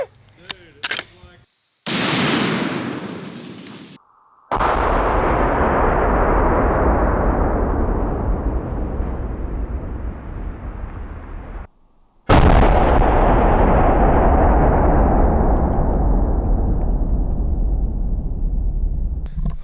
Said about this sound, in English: Definitely the most dramatic watermelon explosion we've ever had on this channel for sure